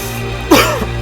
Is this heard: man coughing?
yes